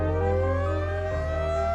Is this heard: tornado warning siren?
yes